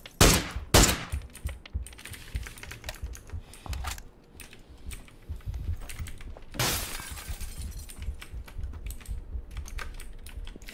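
Shots ring out in PUBG, the Thai players' gunfight heard as sharp, clustered cracks near the start and again around the middle. Lighter rapid clicks fill the gaps, and there is no clear speech.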